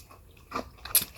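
A couple of crisp crunchy bites of food, close and fairly quiet, two short bursts about half a second apart with no talk.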